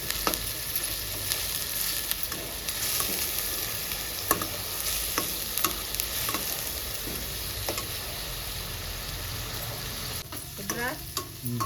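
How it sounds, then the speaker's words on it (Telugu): Fish pieces fry in hot oil in a pan, a continuous close sizzle broken by frequent scraping and tapping from a spatula, with a brief burst of louder activity near the end. "బాగా ఫ్రై చేసుకుందాం."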